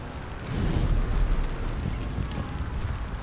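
Fire burning in the fantasy game Baldur's Gate 3, a loud steady roar and rumble that swells early on and then holds as a continuous crackling whoosh.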